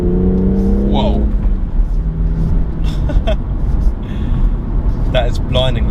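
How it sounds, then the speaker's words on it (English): A BMW M240i Coupé with a manual gearbox accelerates hard on an open road, its engine and loud exhaust roaring and surging through the gears while someone talks over it. "Oh, the exhaust has got loud as well."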